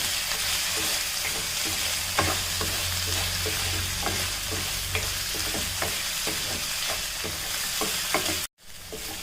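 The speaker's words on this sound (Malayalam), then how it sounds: "ഈ ഉരുളക്കിഴങ്ങും കൂടെ എണ്ണയ്ക്കകത്ത് നന്നായിട്ടൊന്ന് വഴറ്റണം" Potatoes sautéing in oil for a potato masala, a continuous loud sizzle broken by frequent stirring scrapes and a low hum in the middle, ending in a brief sudden cutoff.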